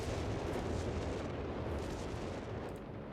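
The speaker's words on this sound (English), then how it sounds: "Artillery about to come on in." Artillery fire in the Company of Heroes 3 video game, a dense, continuous rumble of distant blasts and explosions that holds steady for a few seconds, with no talk.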